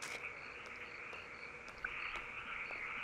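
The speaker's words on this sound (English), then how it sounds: "It really sounds like a southern summer night with the frogs and the cicadas and the owls and everything." Night frogs croaking in Kentucky Route Zero, a steady high chorus of calls with faint insect trill and occasional soft clicks, ambient and continuous with no voices.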